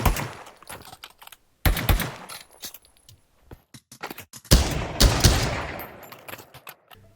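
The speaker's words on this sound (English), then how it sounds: "many weapons now have some new sounds" Several weapons fire in the Pavlov VR shooter game in sharp bursts: rapid automatic volleys alternate with short single shots and brief silent gaps, all close and loud with no voices.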